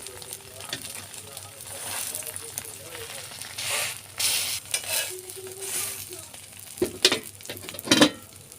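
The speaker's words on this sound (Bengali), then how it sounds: "আমি ডিমটা সুন্দর করে এভাবে তেলে দেব।" Egg and slices of bread fry in oil in a pan with a soft, crackling sizzle, punctuated by louder bursts and scraping as the pieces are moved or turned, while someone speaks quietly in the background.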